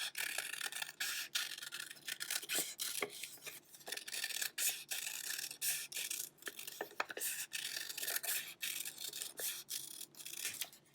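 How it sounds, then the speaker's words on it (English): Scissors cut two craft circles out of a sheet, giving a close, quiet run of rasping snips and rubbing paper sounds in an irregular rhythm. "And now I'm going to cut that out"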